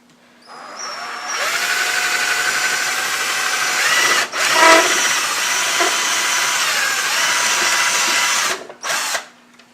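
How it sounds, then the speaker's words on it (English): An electric drill whirs steadily for several seconds, drilling a pilot hole in plastic on a Tamiya RC car, pausing briefly mid-way, then winds down and stops with a short final burst. "make a little pilot hole so that way we don't crack the plastic"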